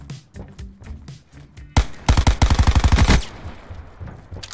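Rapid automatic gunfire in the Call of Duty Blackout battle royale game: a loud, dense burst of shots lasting about a second, preceded and followed by scattered quieter single shots.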